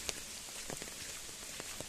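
Rain falling on a village path gives a faint, steady wash of patter with scattered soft drop ticks, heard alone without voices.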